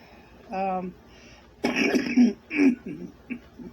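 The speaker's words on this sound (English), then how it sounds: "Smoker's cough." A few rough, raspy coughs and throat clearing close up, mixed with some voiced sounds.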